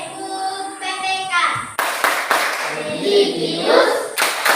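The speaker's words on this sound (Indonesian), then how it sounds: "Tepuk PPK." A classroom group doing the PPK rhythmic clapping chant, sharp patterned claps in quick bursts with a voice calling out before the clapping starts.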